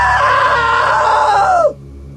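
A sustained, loud human scream in the video game What Remains of Edith Finch, held steady for over a second before it bends downward and cuts off abruptly into near silence.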